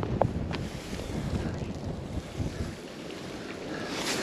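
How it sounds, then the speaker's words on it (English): Strong downstream wind gusts across a salmon river, roaring and buffeting the microphone in a continuous rough rush with small surges, loud and close, no voices heard. "this downstream wind is wicked"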